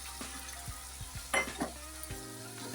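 Boiled mutton going into spice paste frying in oil in a pot, with a soft sizzle punctuated by several thuds and clinks as the pieces are dropped in and moved around; no voices.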